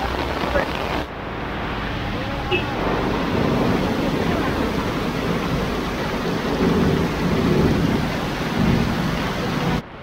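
Steady heavy rain pours at a street food vending spot for the whole stretch, a dense hiss with low rumbling beneath, constant and close.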